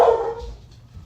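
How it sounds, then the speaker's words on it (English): A single dog bark, somewhat muffled and close, trailing off into low rumbling background noise. "Let's see what this dog's barking at."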